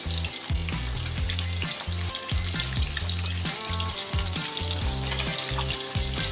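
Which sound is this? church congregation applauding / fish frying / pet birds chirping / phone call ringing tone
fish frying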